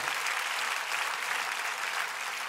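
A theatre audience applauds a comedian in a steady, dense wash of clapping from many hands, loud and sustained throughout, with no voices over it.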